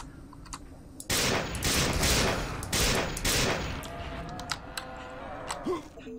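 Rapid automatic gunfire in System Shock 2, a loud burst of overlapping shots for a couple of seconds that thins into scattered sharp reports, with faint keyboard clicks around it.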